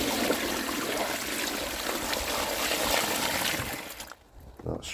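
A bucket of water is poured down an outdoor drain after it was cleared with a pressure washer, giving a continuous splashing rush that runs for about four seconds before tapering off into quieter trickles.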